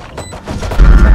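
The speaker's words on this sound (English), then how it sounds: "Every bullet for gunshots." Gunfire in the Valorant video game, a burst of sharp shots building into a loud, dense low-end volley near the end, with faint game noise behind.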